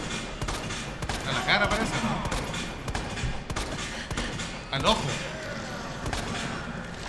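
Gunfire in the video game Resident Evil 2, with sharp shot bursts near 1.5 and 4.9 seconds over game noise, while players talk throughout.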